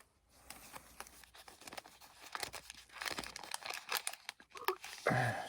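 A Topps WWE NXT trading card pack wrapper is torn open and crinkled close up, with irregular bursts of plastic foil crackling and tearing that grow louder toward the end.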